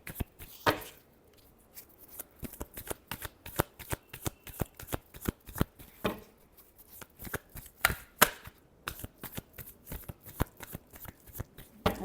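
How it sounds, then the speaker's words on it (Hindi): Tarot reading cards shuffled by hand, a long run of sharp riffling bursts and soft card flicks repeating in an irregular rhythm, close and fairly quiet with no talk over it. "Last shuffle."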